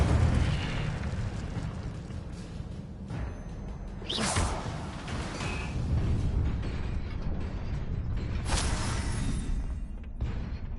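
Incendio fire spell cast in a video game: repeated whooshing, roaring bursts of flame over a dense rumbling game soundscape, with two loud swells about four seconds apart.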